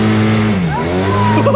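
Side-by-side engine revving hard while mudding through soft ground, a loud steady drone with pitch sweeping down and back up, close and continuous.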